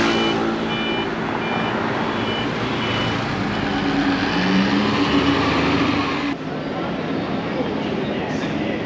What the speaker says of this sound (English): we'll be dealing with a little bit of Taipei traffic